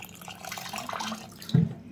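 Water poured from a vessel into a thick semolina and vegetable pancake batter to loosen it, with a soft continuous trickle and a brief louder splash near the end, close by.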